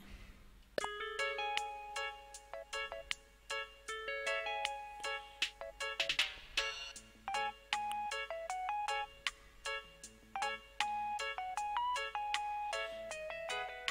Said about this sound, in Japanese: ゲームの音楽っぽいな。